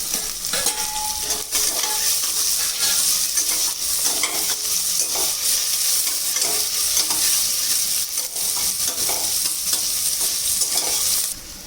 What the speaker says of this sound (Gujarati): આપણે ડુંગળી ગુલાબી શેકાવા દેવાની છે.